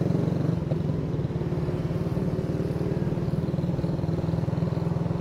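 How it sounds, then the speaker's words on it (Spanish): Police motorcycles on a mixed patrol operation in San Francisco ride together with new engines, a steady pulsing motor drone running loud and continuous throughout, with no talk over it. "Los motores son nuevos, ¿eh?"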